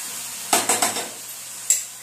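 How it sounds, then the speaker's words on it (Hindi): Ghee in a frying pan for vegetable pulao, heard as a few quick bright sizzling bursts and spatula clinks against the pan over a low steady hiss, close by and with no talking. "मैंने फ्राई पैन पर चढ़ाया है। थोड़ा सा घी डाल रही हूँ मैं"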